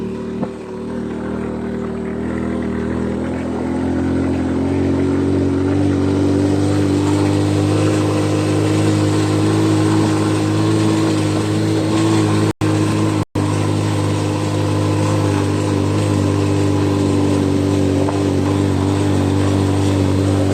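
A motorcycle engine drones steadily as it is ridden, a continuous mid-pitched hum with mild rises in revs and constant road and wind noise close to the microphone, running unbroken for about twenty seconds with no talking.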